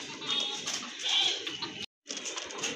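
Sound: pigeons cooing

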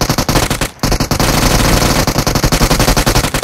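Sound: gunfire in PUBG video game

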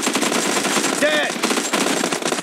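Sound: gunfire in the video game PUBG

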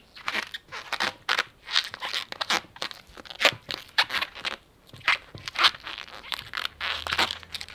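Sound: rubber balloon twisted and knotted

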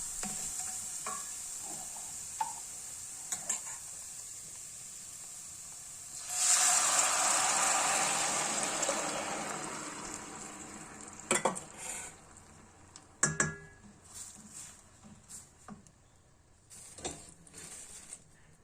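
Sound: walnuts stirred into sautéed garlic

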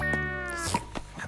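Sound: cat meowing in an anime

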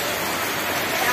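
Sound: heavy rain

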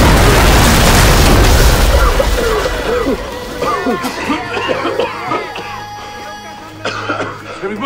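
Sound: explosion from a recoilless rifle round

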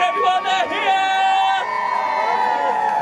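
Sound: crowd cheering at theme park opening

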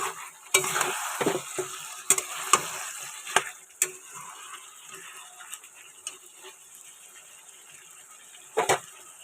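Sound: tomatoes being sautéed in a pan

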